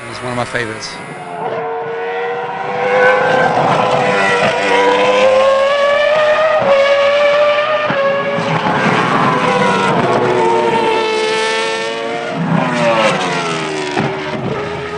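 Vintage race cars scream past on the Dijon-Prenois circuit, engines revving up and down through gear changes, loud and close, with several passes overlapping across the track.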